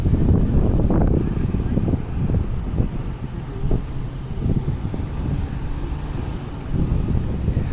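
Wind blowing outdoors on a walk along South St, a steady low roar buffeting the microphone with gusts rising and falling, with some speech over it.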